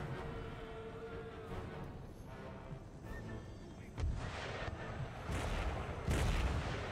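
Empire: Total War artillery rounds landing, distant booms over a low battlefield din, then heavier thuds and cracking impacts growing louder toward the end.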